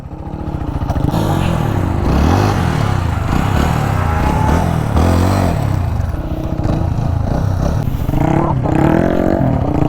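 A motorcycle engine revs hard during wheelie practice, rising and falling through several throttle surges close by, with clatter and voices talking over it.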